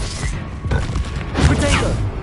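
A Confringo fire spell blasts in Hogwarts Legacy combat, giving short, loud bursting thuds and crackling impacts in quick succession, mixed with other battle noise.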